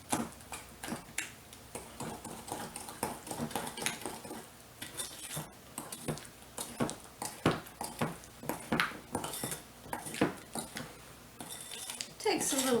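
A thick butterscotch bar mixture stirred with a utensil in a bowl, with irregular close scraping and clinking strokes; a person talks at times over the stirring.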